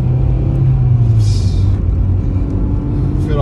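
A Honda Integra Type R engine drones steadily and loud from inside the moving car, a constant low rumble with a brief lift in pitch midway, over faint cabin noise.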